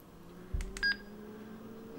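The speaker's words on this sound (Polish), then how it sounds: "co słyszymy, dźwięk przycisków" A handheld radio's buttons are pressed, giving two or three short electronic beeps over a low steady hum, fairly quiet and with no talking.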